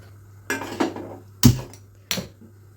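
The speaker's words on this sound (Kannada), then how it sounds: "ಪ್ಯಾನ್ ಇಟ್ಕೊಳ್ಳೋಣ, ಶಾಲೋ ಫ್ರೈ ಮಾಡಲಿಕ್ಕೆ ಗ್ಯಾಸ್ ಹಚ್ಕೊಳ್ಳೋಣಂತ" A metal pan is set down on a gas stove in a home kitchen, ready for shallow frying: four short, sharp clanks and knocks spaced about half a second to a second apart, close and distinct.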